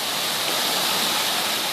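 Steady, dense rush of water from waterfalls spilling between lakes in a three-lakes park in Israel, a broad continuous roar with no voices.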